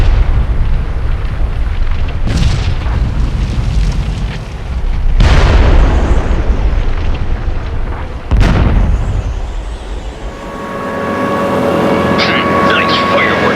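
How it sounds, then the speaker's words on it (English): Explosives blown up in the video game CT Special Forces, three loud booming blasts a few seconds apart over a rumbling background, then a quieter tonal game sound at the end. "You're authorized to blow the explosives."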